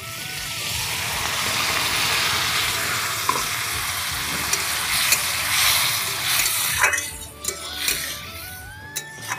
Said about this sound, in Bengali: এই রকম কিছু সময় একটু নাড়াচাড়া করব।